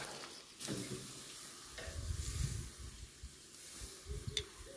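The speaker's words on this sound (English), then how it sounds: "Sound of a braai." Steak sizzles faintly over a braai fire, a low crackling hiss with occasional pops and soft clicks, quiet and steady.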